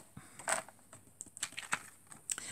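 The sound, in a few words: cutting out a stamped paper piece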